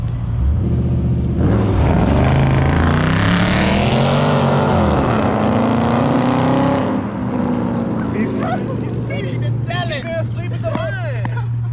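Two Dodge Challenger Scat Packs, one wide body and one regular body, launching side by side at a Mopar drag race meet, a loud engine roar rising and sweeping for several seconds, then steady rumbling idle with crowd chatter.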